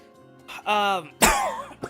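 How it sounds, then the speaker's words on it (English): A voiced throat sound followed by a single sharp, loud cough up close, with a short trailing breath after. "I have a little bit of a cough"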